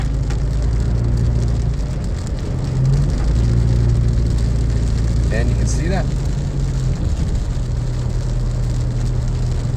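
Heavy rain drums on a car driving through Big Bear, California, during warm, moist, monsoon-like June weather. A steady, dense hiss sits over a low engine hum throughout, while someone talks over it.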